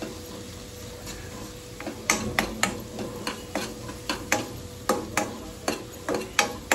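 A spoon stirs turmeric into food in a pan, scraping and tapping against the metal in a quick, regular rhythm of sharp knocks over a low, steady sizzle close by.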